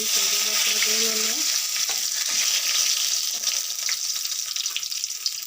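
Cumin seeds crackle and splutter in hot oil, a dense, steady sizzle that fills the whole clip at close range, with a few brief tonal clinks near the start and no talking.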